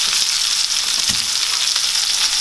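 Garlic cloves and thyme fry in a hot pan, giving a loud, steady, unbroken sizzle throughout.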